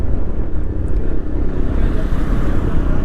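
A Yamaha FZ-S Hybrid motorcycle engine pulling up through the revs, a loud, steady, close droning roar heavily mixed with rushing wind noise, with no talk.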